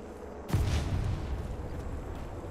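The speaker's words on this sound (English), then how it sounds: "Thermite grenade." A thermite grenade in a shooter game goes off with a sudden sharp burst, then a sustained roaring, crackling burn that fades gradually, fairly close and loud, with no talking.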